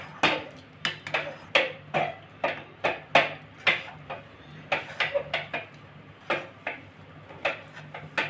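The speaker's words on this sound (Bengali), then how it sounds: "এবারে একটা আমি ডো তৈরি করে নেব" Semolina and milk stirred into a thick dough in a pan, heard as steady rhythmic knocks and scrapes of the spoon against the pan, roughly two per second, close and fairly loud with no talking.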